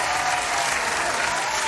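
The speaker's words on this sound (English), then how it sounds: "let's give ourselves a round of applause" Participants at a live show give a loud, dense round of applause, a continuous wash of clapping with no gaps and no voices over it.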